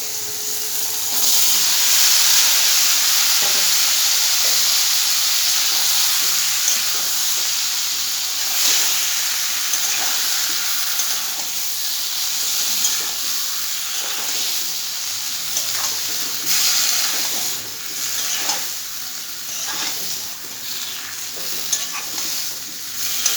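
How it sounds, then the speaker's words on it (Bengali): Malabar spinach fries in a pan with lentils, producing a loud, continuous close sizzle and hiss with irregular stirring scrapes that ease slightly toward the end, with no speech. "ওর মধ্যে আমি ঢেলে দেবো পুঁই শাকটা।"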